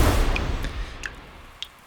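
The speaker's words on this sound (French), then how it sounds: "le tonnerre commence à gronder" Distant thunder rolls as a storm moves up from the south under a darkening sky: a low, heavy rumble swells over the first second, then fades away, with a few faint clicks scattered after it.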